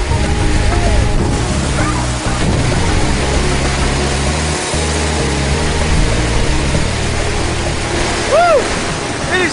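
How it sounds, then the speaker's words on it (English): A forceful waterfall pounds down at the Siem Reap River headwaters, a loud, steady broadband roar of crashing water heard up close, with faint voices partly buried underneath. "It is so forceful underneath that waterfall"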